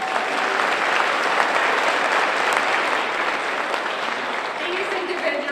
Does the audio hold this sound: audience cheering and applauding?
yes